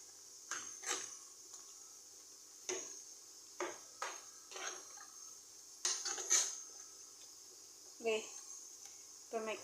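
A spoon scrapes and clinks against a pot while curry paste is mixed for a dried fish and chickpea curry, in separate short bursts of metal knocks with quiet gaps between.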